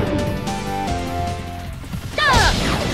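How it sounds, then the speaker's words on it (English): Five Ring Shatter attack from the Legend of Dragoon game, heard as a run of loud sharp impacts and crashing hits, ending in a bright whooshing slash burst. "Five ring shatter!"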